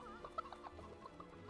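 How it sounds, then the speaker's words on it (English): Chickens in the video game Fable 3 clucking softly in a quick, uneven chatter of short overlapping calls, faint and continuous with no other sounds on top. "Just all the chickens"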